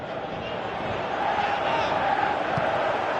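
Video game football stadium crowd roaring steadily as a comeback builds, a broad, dense wash of cheering that swells slightly louder midway and holds throughout with no distinct voices standing out.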